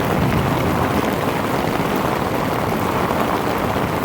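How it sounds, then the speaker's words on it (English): Dense, steady rain patters hard on a USMC two-man combat tent overhead during a storm, a constant loud hiss with no pauses. "now that we're getting a little more rain"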